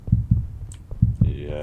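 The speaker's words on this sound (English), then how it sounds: "Wait, my heartbeat." A deep, thumping heartbeat effect pulses in the co-op horror game Backrooms: Escape Together, paired double beats repeating close and prominent, with a brief voice cutting in near the end.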